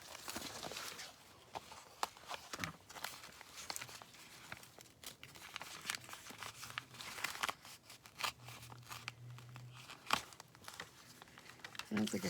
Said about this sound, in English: I don't think I cut it open all the way.